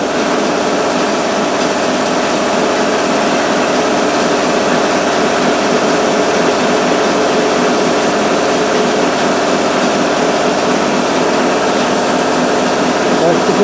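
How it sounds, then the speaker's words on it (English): Air compressors running in a workshop around an Isuzu KB220 pickup, a steady loud mechanical drone and hiss that holds unbroken throughout with no pauses. "Let me just kick on the compressors."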